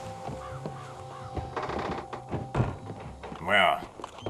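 Raven in the RedM roleplay version of Red Dead Redemption 2 gives a harsh caw amid thunks and ambient game noise, with people talking over it.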